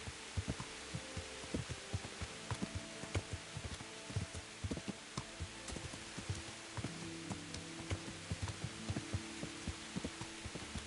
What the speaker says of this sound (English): I love this sound of this rain.